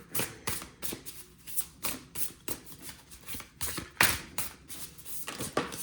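Oracle cards are shuffled and drawn by hand, a run of crisp riffling bursts and light taps repeating in an uneven rhythm, close and fairly quiet with no talking.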